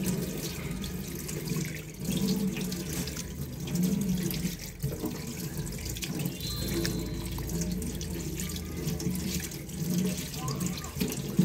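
Tap water runs steadily into a sink for rinsing, a continuous close rushing and splashing with slight shifts in flow, and no one talking over it.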